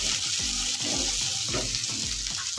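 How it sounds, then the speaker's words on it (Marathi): Vegetables for veg pulao sautéing in a hot pan make a steady, close, dense sizzle, with soft stirring strokes roughly every half second and no voices. "आपल्या भाज्या परतून झालेल्या आहेत।"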